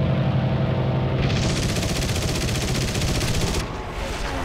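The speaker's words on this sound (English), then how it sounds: "Yeah, cannons!" Rapid automatic cannon fire in the War Thunder video game, a fast continuous rattling burst of shots lasting a couple of seconds over engine and battle noise.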